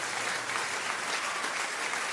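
Crowd applause rendered as a sound effect, a steady wash of clapping that holds at an even moderate level for about two seconds with no voices over it.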